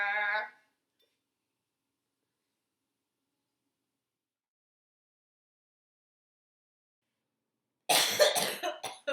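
A single burst of coughing breaks out near the end after long silence, preceded by a brief voiced sound at the very start.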